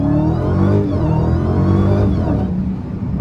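Dodge Hellcat engine roaring under heavy throttle while the car spins its wheels and slides sideways, a loud continuous growl that rises and dips as the revs change, heard from inside the car.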